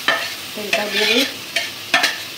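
Fried rupchanda fish being stirred into cooked spice paste in a pan, with a few distinct scraping stirs and soft sizzling between them, close and fairly loud.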